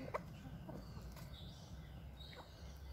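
Older backyard hens cluck softly and intermittently, a few faint, short calls over low outdoor background noise.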